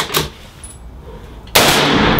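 Gunshots at a gun range: a sharp report near the start, a lull, then a loud close blast at about one and a half seconds with a sustained noisy tail to the end.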